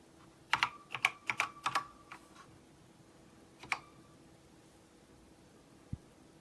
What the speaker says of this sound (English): it's like a Mark Data products keyboard